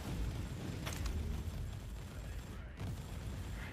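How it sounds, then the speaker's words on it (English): Rocket explosions in the video game Inquisitor Martyr on PS4, a dense, continuous roar of overlapping blasts with a few sharper bursts, loud and sustained throughout. "if I shoot all of my rockets"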